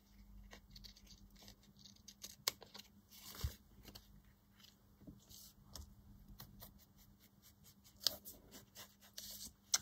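Scissors trimming old scrapbook pad paper ephemera, close and quiet, with a run of small crisp snips and paper rustles scattered irregularly throughout.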